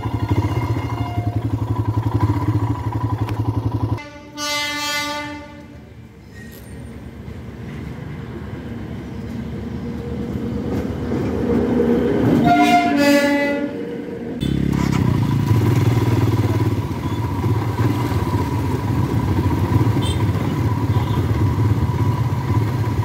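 A train approaches a congested road crossing on the Sikkim to Siliguri route, sounding two loud, sustained horn blasts a few seconds apart over a constant low rumble of engines and traffic.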